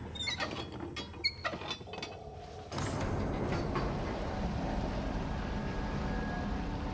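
An old valve in the horror game Outlast is turned open with metallic creaks and clunks, then a steady loud rush of flowing water or gas takes over and continues.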